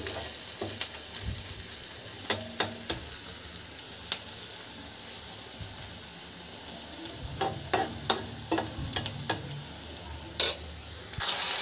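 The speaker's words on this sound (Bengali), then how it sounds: "কনস্ট্যান্ট নেড়ে ঘেঁটে যেতে হবে, একদম হালকাভাবে। দেখছেন হালকা হালকা ব্রাউন হচ্ছে।" Chicken and egg sizzle steadily in a pan, browning lightly, while a spatula scrapes and clacks against it in irregular bursts.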